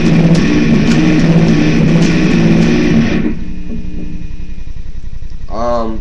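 An Ibanez electric guitar with its knob turned all the way up rings out as a loud, distorted chord for about three seconds, then drops to a quieter sustained tone with a brief sliding, wavering note near the end.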